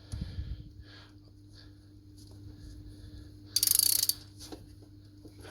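A roller-locking stud remover socket undoes a stud on a TD42 turbo manifold, giving a quiet ratcheting tick and mechanical creaks, then one brief bright metallic rattle near the end, close and alone with a low steady hum beneath.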